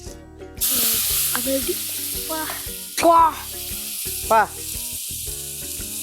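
Boiling water poured into roasted wheat rava in a pan for kesari sets off a loud, steady sizzle that persists for several seconds, with bursts of steam hiss; a person speaks briefly over it.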